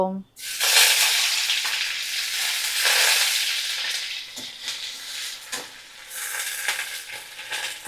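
Chopped onion hits hot oil with a loud, close, hissing sizzle that swells and ebbs in waves over several seconds, alongside faint stirring knocks, with no speech.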